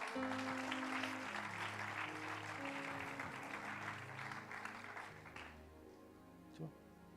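A church congregation applauds in a dense, fairly distant patter of clapping under a steady musical drone, tapering off toward the end.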